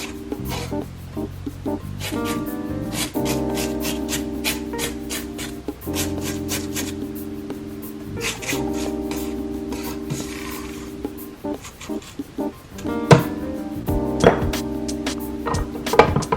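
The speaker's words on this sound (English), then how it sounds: "Scrape sides." A spatula scrapes the sides of a mixing bowl of vanilla yellow sheet cake batter, giving repeated rasping strokes in a steady rhythm, loud and close with no talk.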